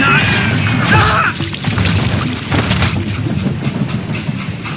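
Moving train in Call of Juarez: Gunslinger rumbles loudly with metallic clanks, crashes and screeching, a continuous heavy rail din with sharp impacts early on.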